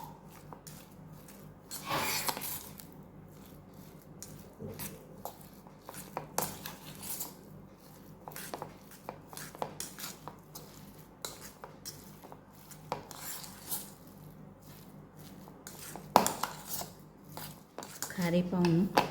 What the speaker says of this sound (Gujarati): આ બધું આપણે મિક્સ કરી લેવાનું